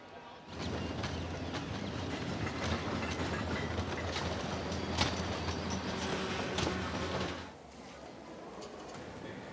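A train rumbles and rattles past with clanking wheels and metallic clatter, loud for several seconds before cutting to a quieter background.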